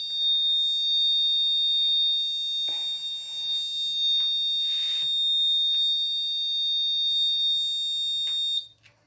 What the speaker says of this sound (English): red LED on, alarm on